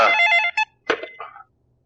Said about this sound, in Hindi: ये बेवत किसका फोन आ गया?